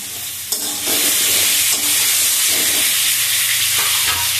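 Dried red chilies and panch phoron spices sizzle steadily in hot oil, a loud continuous crackling hiss with occasional stirring scrapes, close and without speech.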